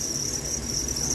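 Steady, dense chirping of crickets fills an egg-laying box on a cricket farm, a continuous high-pitched trill that stays even and close throughout with no voices.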